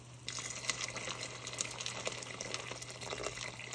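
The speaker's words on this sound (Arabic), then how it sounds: "راح نزيد المي كمان." Water pours steadily from a tap into a pot of vegetable soup with pasta, a continuous close gushing splash lasting several seconds.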